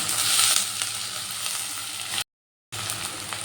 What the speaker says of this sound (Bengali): দুটো মিডিয়াম সাইজের টমেটো টুকরো করে কেটে দিয়ে দিলাম দিয়ে আবারও একটু ভালো করে ভেজে নেব